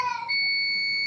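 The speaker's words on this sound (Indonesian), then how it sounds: "Ini kan kita pastikan buzzernya bunyi ya." A multimeter's continuity-test buzzer sounds while a mini fridge is being repaired: one short, sharp electronic beep that shifts into a steady, loud, unbroken tone, with no voices.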